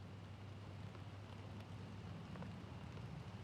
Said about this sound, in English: Can't get home in the rain like this,